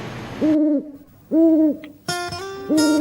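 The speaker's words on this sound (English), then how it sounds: "Let's read a poem about my favorite bird. Oh, it's an owl." An owl hoots four times in a slow, evenly spaced series, each call a clear two-tone hoo sounding close and loud, with other harmonic sounds overlapping the later hoots.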